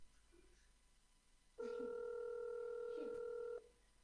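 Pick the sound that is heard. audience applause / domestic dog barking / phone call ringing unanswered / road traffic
phone call ringing unanswered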